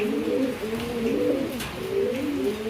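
A pair of Baghdadi Huma fancy pigeons, a male and a female, give soft rolling coos close by in a continuous, wavering murmur that dips briefly before resuming.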